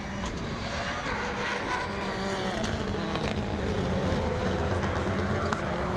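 Rallycross race cars at Pembrey, including an older style Ford Fiesta on its last lap, roar steadily with a dense, continuous engine drone heard from trackside at a distance, with no clear pass-by peak.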